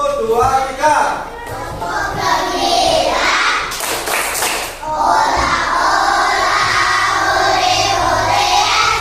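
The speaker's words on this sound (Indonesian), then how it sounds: "kita tepuk gembira dulu" A school class does tepuk gembira, bursts of rhythmic group clapping with children's voices and shouting mixed in, loud and close throughout.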